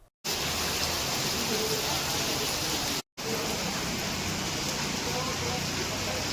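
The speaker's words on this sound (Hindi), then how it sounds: "कई इलाकों में भारी बारिश दर्ज की गई।" Heavy monsoon rain pours down, a dense, steady, loud hiss that fills the whole sound. It breaks off twice for an instant.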